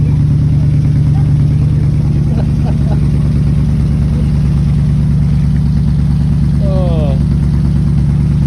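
V8 engine of a cheap, rare classic car running, a loud steady idle with a throbbing low rumble filling the whole stretch and a man's brief exclamation over it.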